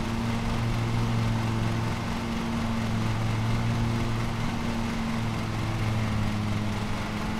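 Steady lawn mower engine hum from the Lawn Mowing Simulator game, a constant low drone with a sustained tonal hum that runs without a break, with nobody talking.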